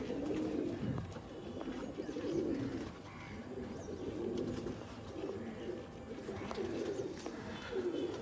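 Adult pigeons cooing at a pigeon sale, a steady, overlapping murmur of low throaty calls, fairly close, with continuous rustling background noise throughout.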